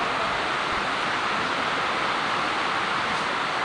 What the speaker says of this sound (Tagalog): Sobrang lakas ng bagyo guys